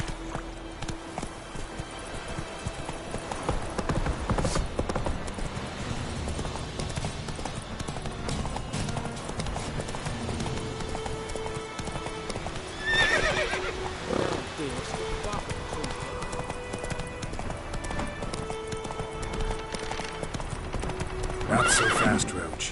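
Roach, the horse from The Witcher 3, gallops with continuous rhythmic hoofbeats and a couple of whinnies, close and prominent, while voices speak intermittently over game music.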